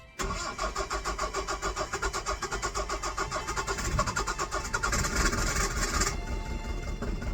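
A van's diesel engine cranks over with a rapid rhythmic starter churn and then catches and runs after fuel-line bleeding, loud and close throughout with no talking.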